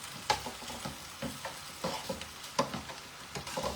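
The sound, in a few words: garlic and sausage frying in a pan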